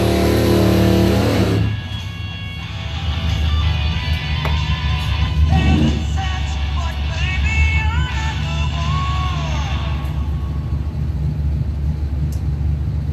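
A 1975 Chevrolet Malibu race car at drag time trials, its engine roaring loudly at first, then a sustained rumble continuing under crowd and track ambience.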